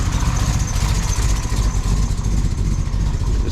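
A repaired truck engine that had been leaking oil over the turbo, running at a steady, loud close idle with a deep rumbling, even rhythm and no voices.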